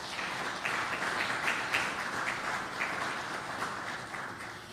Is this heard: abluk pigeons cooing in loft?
no